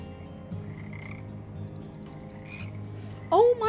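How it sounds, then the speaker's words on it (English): A frog in a video game sounds a steady, low croaking drone, followed near the end by a short, louder burst of game sound effect, all without speech. "A not very easy to catch frog,"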